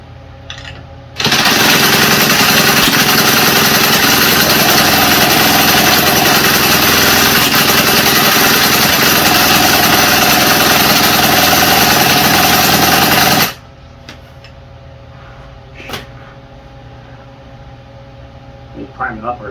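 A Troy-Bilt TB227XP string trimmer engine runs loud and close with a steady, unbroken buzzing drone for about twelve seconds, then cuts off abruptly, leaving quiet handling noises afterward.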